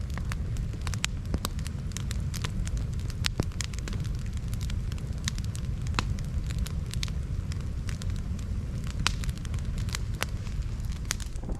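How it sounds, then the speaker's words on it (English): A roaring campfire outdoors at Limestone Creek in sub-zero cold, dense crackles and sharp pops over a steady rushing burn, close and continuous, no voices. "we have a real romping fire going"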